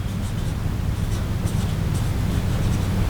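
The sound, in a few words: writing a word on paper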